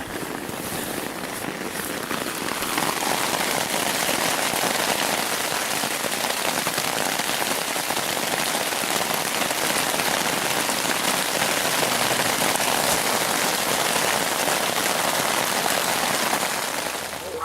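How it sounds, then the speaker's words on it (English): Dense, heavy rain pours steadily at night, a constant loud hiss of drops hammering a surface with no letup. "it's pouring down rain right now"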